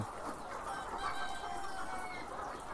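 Ready-to-lay hens cluck continuously on a chicken farm, a dense flock chorus with scattered higher calls, steady and fairly near throughout.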